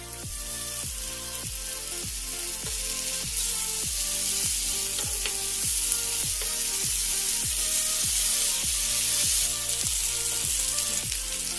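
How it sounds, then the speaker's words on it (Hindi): Paneer pieces fry in a pan with a steady, bright sizzling hiss, while a regular low pulsing hum throbs underneath at a steady beat. "और अब एक एक पनीर उठा करके आप आराम से उसे फ्राई करें।"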